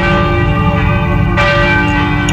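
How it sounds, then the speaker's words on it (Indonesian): A large bell in a war film rings with a rich, sustained metallic tone, its overtones hanging in the air, loud and close. "hanya menunggu datangnya bunyi bel yang dia sudah perintahkan"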